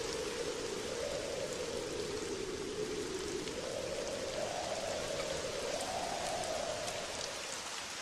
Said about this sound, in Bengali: না বাবু, বৃষ্টি কমার কোনো নামগন্ধ নেই। সেই সকাল থেকে বৃষ্টি হয়েই চলেছে।